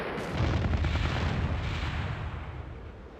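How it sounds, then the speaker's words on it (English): A salvo of jet-launched rockets fired at a convoy in the Strike Fighters 2 flight game, a dense rumbling barrage of launches and blasts that stays loud and steady before slowly tapering, with no talking. "Release rockets and pull slightly up through the targets as we fire."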